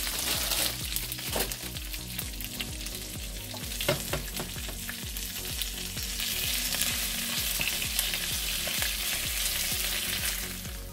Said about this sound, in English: cooking the spinach for just a couple of minutes is really all you need